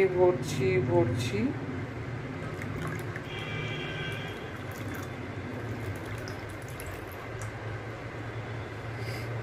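Water pours into a pressure cooker in a steady stream with a continuous filling rush and a rising gurgle, while someone talks over it.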